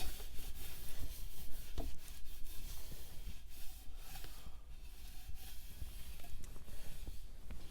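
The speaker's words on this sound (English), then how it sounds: "now I'm just going to take basically old undershirt, something soft, smooth, just wipe down the inside." A soft cloth, like an old undershirt, wiping the inside of a Black Beauty snare drum shell, making faint, uneven rubbing and brushing strokes with occasional light clicks, close by and without any talking.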